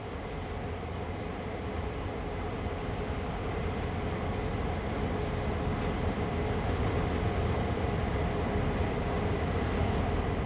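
A CN freight locomotive on the Oakville Subdivision in Train Sim World 2020 rolls along, producing a continuous loud rumble with rail noise that builds slightly in intensity throughout.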